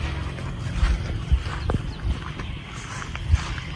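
Horse being prepared for neza bazi (tent pegging) moves about, with a few soft, irregular hoof thuds and shuffles close by under a steady outdoor background.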